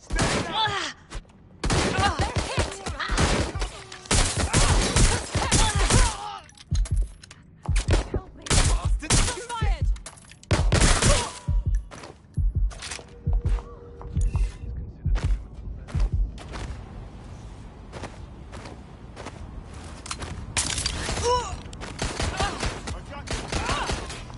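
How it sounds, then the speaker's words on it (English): Rapid gunfire bursts from the video game Watch Dogs crackle loudly and repeatedly throughout, sharp overlapping shots and volleys with short gaps, while players talk over the action. "They're shooting at us!"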